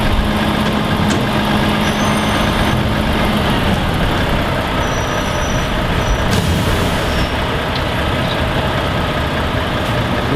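New buses moving through traffic in Wrexham, with a bin lorry holding up the street. The engine rumble stays steady throughout, with a brief hiss that could be air brakes.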